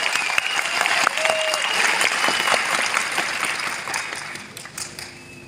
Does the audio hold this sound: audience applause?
yes